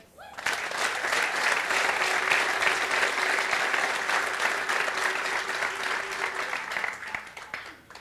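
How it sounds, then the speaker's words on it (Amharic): Church congregation applauding during an anniversary sermon, a dense, steady burst of many hands clapping that holds for several seconds and then tapers off, with a faint sustained tone underneath. "አጨብጭቡ።"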